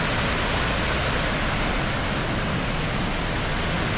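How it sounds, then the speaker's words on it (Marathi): Heavy water flow at a monsoon waterfall in Malshej Ghat in the Sahyadri hills, a steady, dense, broadband roar with no break over the whole stretch. "या ठिकाणी पाणी मोठ्या प्रमाणात वाहताना आपल्याला दिसेल"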